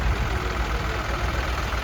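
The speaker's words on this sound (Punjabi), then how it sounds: "ਜੌਂਡੀਰ ਵਾਲੇ ਵੀਰਾਂ ਨੇ ਬਾਈ ਟਰੈਕਟਰ ਦਿੱਤਾ ਜੀ ਅੱਜ 5210 ਫੋਰ ਵੀਲ ਡਰਾਈਵ ਵਾਲਾ" A John Deere 5210 four-wheel-drive tractor engine idles with a low, steady diesel rumble at close range and no one speaking.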